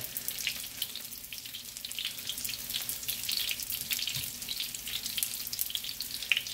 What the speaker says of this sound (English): Remember, have enough oil in here so they do shallow fry